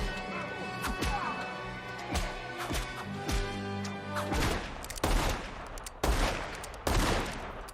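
Gunshots from a Django Unchained film scene, a series of sharp loud cracks and impacts at irregular intervals over music and dramatic background sound, with a voice briefly heard.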